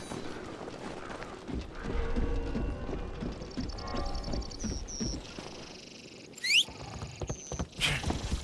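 Hooves clip-clop in Assassin's Creed Shadows as a beast horse moves along, steady and fairly close, while higher chirps and game effects sound over them.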